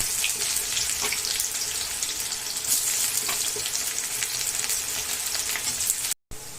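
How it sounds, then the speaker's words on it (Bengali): Chopped onion sizzles loudly and steadily in hot mustard oil already holding bay leaf and whole garam masala, a close, continuous crackling hiss for mutton curry that cuts out briefly near the end. "এখন দিয়ে দেবো পেঁয়াজ কুচি।"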